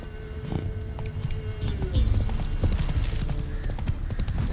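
Roach the horse gallops in The Witcher 3, a steady run of clip-clopping hoofbeats up close that lasts the whole stretch, with game ambience around it and no voices.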